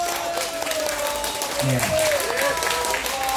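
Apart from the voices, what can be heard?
audience applause at a live show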